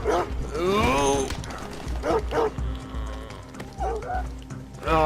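Dog in the video game Red Dead Redemption 2 barking and yelping with whimpers, several loud close bursts in the first second and more around two and four seconds, amid game noise and someone talking.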